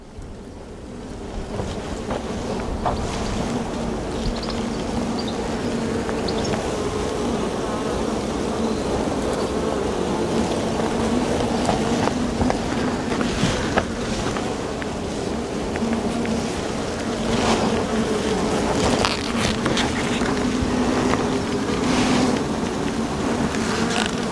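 Around an open hive, agitated honeybees keep up a dense, continuous buzz at close range. The swarm drones steadily with scattered louder passes from individual bees.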